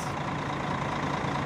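A Mercedes-Benz O500 RSD coach idles at an interstate bus terminal in Brasília. Its diesel engine gives a steady, close, low rumble with no break and no talking.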